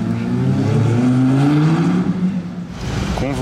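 V8 and V10 car engines in Monaco rev loud and close, pitch climbing steadily, dipping briefly, then surging again at the end.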